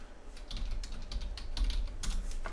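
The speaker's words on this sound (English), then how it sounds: "I'm just going to type in" Fingers typing on a computer keyboard, a quick irregular run of close, crisp key clicks without pause over a faint room hum.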